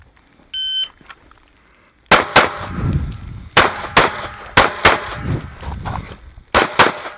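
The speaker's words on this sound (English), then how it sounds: "I'm going to shoot this a couple different ways" Gunshots at a shooting class: a timer beep sounds, then a string of loud, sharp shots follows in quick groups of two and three, with steel targets ringing in between.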